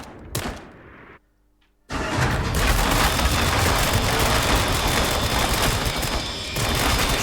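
Loud, dense gunfire blazes in The Dark Pictures: Switchback VR, opening with a brief burst, cutting to near silence for a moment, then erupting into sustained rapid shooting that barely lets up.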